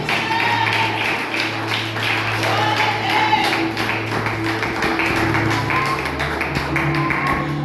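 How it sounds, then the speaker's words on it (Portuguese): Congregation applauding at a family church service, a steady dense patter of many hands held loud throughout, with a low sustained organ-like tone underneath. "Aplauda o Senhor Jesus."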